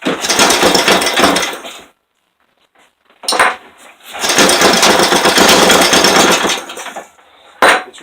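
A rebuilt Briggs and Stratton 5hp small engine runs loudly in bursts, a rough clattering idle that cuts out for a moment, restarts and runs again, with a brief stop near the end.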